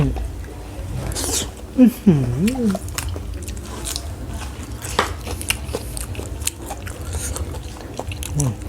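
Close chewing of fresh raw beef in a Thai soi ju meal, with wet, squishy bites and crunchy mastication repeating irregularly, a few brief vocal murmurs in between.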